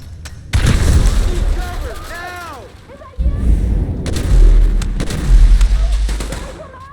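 A grenade explodes in the video game GTA 5 as a deep, loud boom, followed by more heavy rumbling blasts and gunfire-like bursts, with voices shouting between them.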